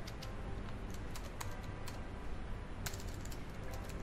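Rapid typing on a computer keyboard, a dense run of close, crisp key clicks with a few louder taps, continuing steadily for several seconds over faint room noise.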